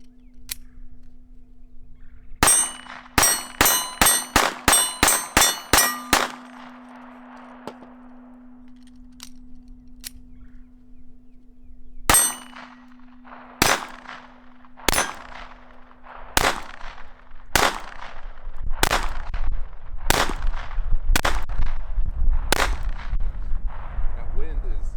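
A Ruger LCP II Lite Rack .22lr pistol fires rapid mag dumps at a steel target outdoors, the sharp reports coming in quick bursts and then spaced shots, with steady wind rumble in the background.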